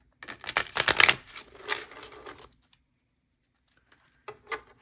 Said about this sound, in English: Now we're going to grab from our crystal deck. Give these guys a good shuffle as well.